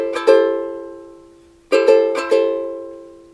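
A ukulele is strummed in a Cook Island-style down-up pattern, with quick paired strokes ringing out and decaying. One short burst comes first, then a tighter cluster of several strums after a pause, all close and clear.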